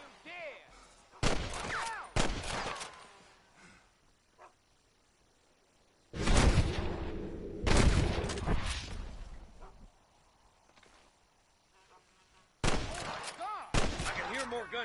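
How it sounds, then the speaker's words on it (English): Gunfire in the Red Dead Redemption video game: several loud bursts of rapid shots in separate volleys, with quieter stretches between them where talk is heard. "I can hear more gunshots."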